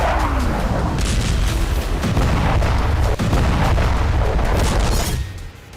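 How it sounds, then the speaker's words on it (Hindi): Heavy Israeli air force bombing in Gaza: a continuous barrage of deep booms and rumbling blasts, loud and dense, with sharp cracking impacts layered throughout before the din abruptly drops away. "इजराइल की वायुसेना ने उन ठिकानों पर भारी बमबारी शुरू कर दी है।"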